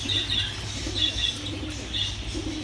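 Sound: pigeons in a bird shop

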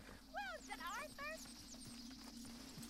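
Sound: horse hooves clip-clop in video game Red Dead Redemption 2

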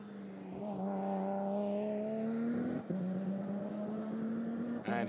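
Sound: GT4 race car passing through chicane at Spa-Francorchamps

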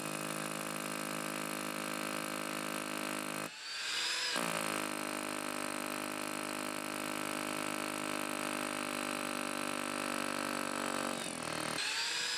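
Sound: power drill drilling a hole through brickwork

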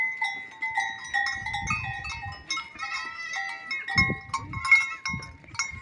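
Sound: goat on a farm

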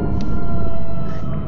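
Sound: air raid siren of a Roblox nextbot, from a video game

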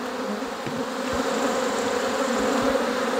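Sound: honey bees buzzing at an open kitchen hive

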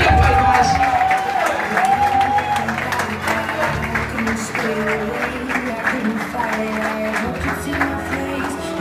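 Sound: wedding guests clapping and cheering

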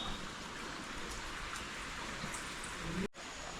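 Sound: sudden monsoon rain falling in Konkan

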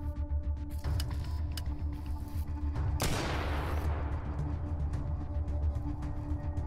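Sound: shotgun fire in video game Atom RPG

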